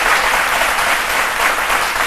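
Audience at a French midday TV talk show applauding loudly, a dense, steady wash of many hands clapping throughout with no pauses, close and full.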